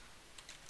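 Computer keyboard keys tapped in a few quick, faint clicks while entering a Minecraft command-block command, alone with no talk.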